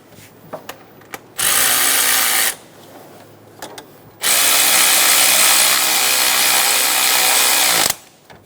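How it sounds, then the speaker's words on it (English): A power tool snugs down the idler pulley bolt on a 2003-2007 Honda Accord engine with two loud, sustained whirring bursts, a short one then a longer one, separated by faint clicks of tools. "we're going to snug down that idler pulley bolt"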